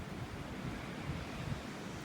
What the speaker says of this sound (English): Give you a listen to the wind and the waves on this beautiful Saturday morning in North Naples, Florida